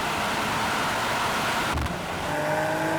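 An AMG C63 S, BMW M3 and Audi RS4 roll on in third gear from about 50 mph during a drag race, a steady loud roar of engines and wind that dips briefly midway, with no talk.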